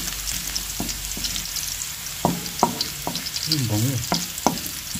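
Garlic sautéing in a pan gives a steady, close crackling sizzle throughout, broken by several sharp scraping knocks of a utensil against the pan, while a voice speaks briefly partway through.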